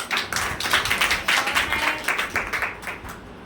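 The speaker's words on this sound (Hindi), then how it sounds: "अपने लिए एक बार ताली बजा देंगे" An audience at a women's day gathering claps in a steady, moderately fast rhythm for about three and a half seconds, a crowd's applause heard at middle distance with no talking.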